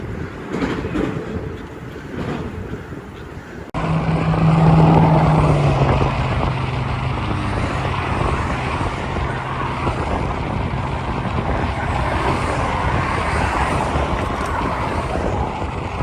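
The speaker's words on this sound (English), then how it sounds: "shame about the traffic noise" Continuous road traffic noise, a loud, steady rumble of passing vehicles that swells after a few seconds and holds without a break.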